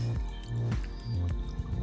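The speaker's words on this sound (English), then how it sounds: "Then I dip my hair into hot water." Braided synthetic hair dipped into hot water gives soft wet sloshing and dripping sounds, close and continuous, with low squishy splashes throughout.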